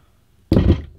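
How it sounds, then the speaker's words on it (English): A single hollow thunk as paint cans are slammed together, sudden and close, ringing briefly after an otherwise quiet moment. "it's just gonna look like me slamming together paint cans"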